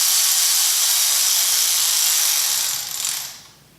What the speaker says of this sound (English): And I'm just going to run them down with this impact